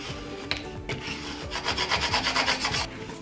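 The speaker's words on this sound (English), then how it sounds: "And now I'm going to burnish the back as well." Vinyl transfer tape being burnished on the back against a wood sign, a series of dry, close scraping rubs in a quickening back-and-forth rhythm, alone without talk.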